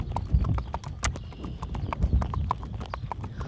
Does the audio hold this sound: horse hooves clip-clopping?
yes